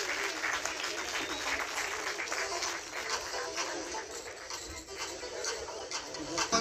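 A crowd applauds football team winners at a university sports week prize distribution ceremony. Sustained, even clapping fills the hall, with faint voices mixed in.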